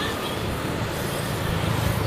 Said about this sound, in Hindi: बहुत ट्रैफिक है और शोर जो है आप सुन रहे हैं